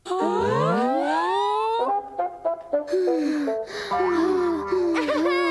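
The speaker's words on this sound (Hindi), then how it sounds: "ये तो शिज़ुका की रोने की आवाज है।" Shizuka, a girl in a Hindi-dubbed Doraemon cartoon, cries with wailing, gasping sobs and whimpers in rising and falling bursts, loud and close, with cartoon music underneath.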